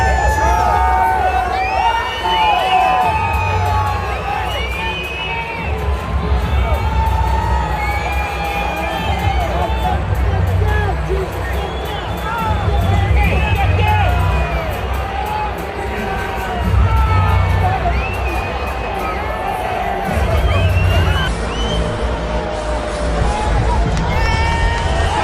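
At the 2025 Super Bowl, a huge stadium crowd cheers and roars as Trump enters, a dense, sustained wall of shouting and whoops that swells and ebbs over its length, with scattered voices rising above the din.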